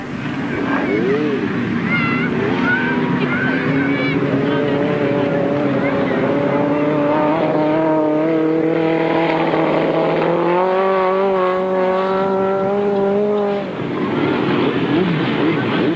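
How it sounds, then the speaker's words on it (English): Grasstrack sidecar motorcycles racing at a 1993 Staplecross meeting, with loud sustained engine drone and rising, shifting pitches of several machines throughout, continuous and close, under a commentator's voice. "coming up to complete race distance is number 32, Kevin Simmons and Gary Langmaid"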